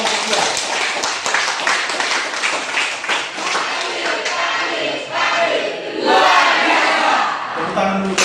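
A school class in a chemistry lesson applauds a student group, dense clapping filling the room with cheering voices mixed in, steady throughout and swelling briefly near the end.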